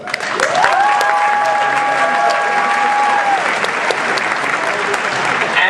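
An audience at a graduation commencement ceremony applauds steadily throughout, dense sustained clapping with a few faint cheers, while a sustained tonal sound glides upward and holds in the background.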